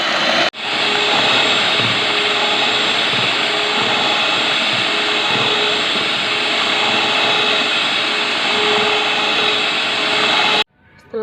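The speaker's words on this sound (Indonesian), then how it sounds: "Lalu mixer dengan kecepatan tinggi hingga berwarna putih kapur." An electric mixer runs at high speed beating cake batter with sugar until chalky white, giving a loud, constant whirring motor drone that starts abruptly, holds steady for about ten seconds, then cuts off.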